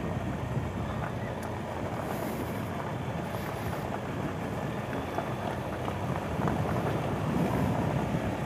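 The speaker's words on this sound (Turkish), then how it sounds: "Rüzgar da var ya." Wind gusting on a rural village road near Gülgöze, Midyat, Mardin at sunset, a steady broadband roar of buffeting against the microphone throughout, with a rumbling vehicle-like drone underneath.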